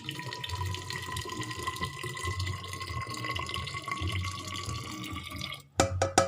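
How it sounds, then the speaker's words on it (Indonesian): Hot water pours from a gasoline camping stove kettle into a thermos, a steady, close trickle with a faint ringing tone that runs continuously and ends abruptly in a few clinks and knocks. "Kita masukin ke termos dulu"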